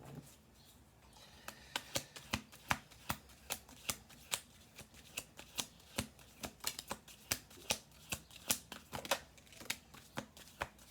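Cards are riffled and handled in a steady stream of crisp, rapid snaps and flicks, close up and quiet, with no talking.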